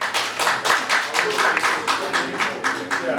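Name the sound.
congress delegates clapping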